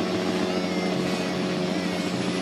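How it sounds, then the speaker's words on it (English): A helicopter in Brazil drones with a steady, dense engine and rotor roar, heard from inside or close by, unbroken and moderately loud for the whole short stretch, with no talking. "The only way to get around in Brazil is helicopters, and this is our fourth one."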